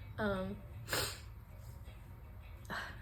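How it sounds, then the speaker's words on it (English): A voiced catch of breath is followed by two sharp nasal sniffs, close and fairly quiet, one early and one near the end. "I have the sniffles."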